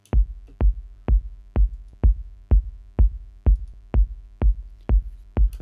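A techno kick drum shaped with EQ in Ableton repeats at a steady, even pace, each hit a deep booming thump with a short click on top, loud and alone with no talk.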